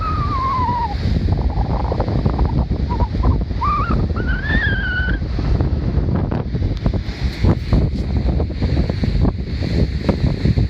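Steady, loud rush of water flowing through a breached dam in Uzbekistan, with a constant broadband roar, some higher whistling tones drifting over it early on.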